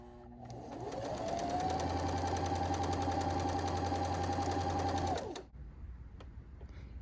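Kenmore sewing machine running a straight stitch: a steady, fast whirring hum that ramps up, holds evenly for about four seconds, then winds down and stops, leaving quiet room noise.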